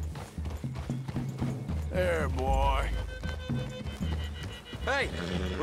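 Hooves clip-clop at a gallop in the Western video game Red Dead Redemption 2. The steady pounding runs under a voice and some game music.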